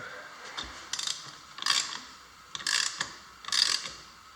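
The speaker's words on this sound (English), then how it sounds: "all you need now is your 17mm socket. And tighten that up nice and tight." A ratchet with a 17mm socket tightens the oil filter on a Piaggio MP3 500 scooter, giving four short bursts of close, crisp pawl clicking with brief pauses between strokes.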